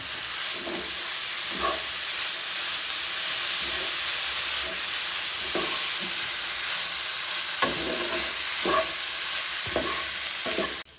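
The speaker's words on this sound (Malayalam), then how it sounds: "നന്നായി ഒന്ന് ഇളക്കണം" Beetroot and dates pickle cooks in a pan under a steady hissing sizzle, while a spoon scrapes and turns it in irregular strokes, close and fairly soft.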